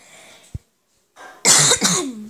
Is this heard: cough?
yes